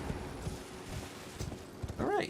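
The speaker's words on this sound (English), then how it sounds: "you wanna calm down, horse?" Horse hooves clip-clop at a steady walking rhythm in the Elden Ring video game, soft and close beneath someone talking, with a brief whinny-like tonal cry near the end.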